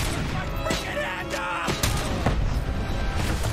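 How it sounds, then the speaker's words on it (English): Grenade blasts and combat bangs from the video game RoboCop: Rogue City, several booming impacts and crashes layered over a dense, noisy game soundscape. "God damn it, all these grenades."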